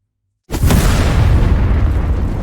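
Huge explosion from an anime character's ultimate skill leveling an amusement park: a sudden loud boom after half a second of silence, then a dense, sustained roar of blast and rumble filling the rest.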